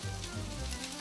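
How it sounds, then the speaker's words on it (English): Romanian sausages frying in a pan, giving a steady, close crackling sizzle that stays constant through the short moment. "Let's get the sizzle."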